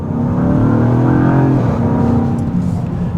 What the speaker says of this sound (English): You're looking for the growl of the V8 along with the performance that comes with it.